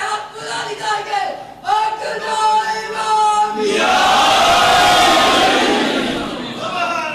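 A large crowd at a majlis religious gathering chants slogans. It starts with rhythmic call-and-response shouts, then swells into a loud, sustained roar of many voices that slowly fades.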